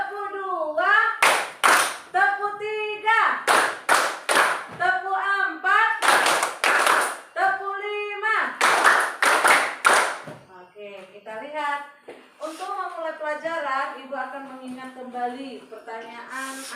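Children clap in sharp, rhythmic bursts of counted groups during a classroom clapping game, led by a teacher's voice, with spoken and chanted talk between and after the clapping.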